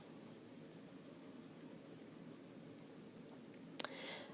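A pen scratches softly and continuously across paper while a definition is handwritten, close and quiet, broken by one sharp tap near the end.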